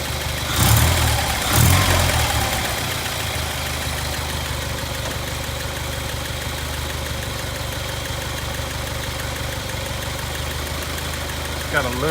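An International Scout 80 engine idles steadily with a slight squeal from a belt running out of line with the alternator. The rumble stays close and continuous, with a couple of louder thumps near the start.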